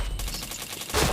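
A quick, loud burst of gunshots from a shooter video game, close and sharp, with a stronger shot at the end of the brief stretch.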